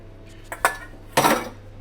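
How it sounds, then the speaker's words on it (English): Fried chicken pieces and potatoes being stirred in a metal pot, two short clattering scrapes of a utensil against the pot, close and distinct over quiet background. "Now we mix well."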